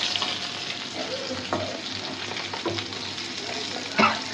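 Rui fish heads fry in a pan with a constant close sizzle, broken by occasional stirring scrapes and a sharper spatter near the end.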